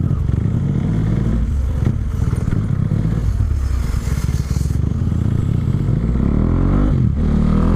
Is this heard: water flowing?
no